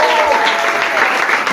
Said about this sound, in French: Est-ce que tu peux l'exprimer par des cris de joie,